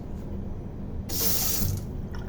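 Water starts running from a hotel sink faucet, a steady hiss that comes in halfway through over a low room hum and then drops off, with no talking.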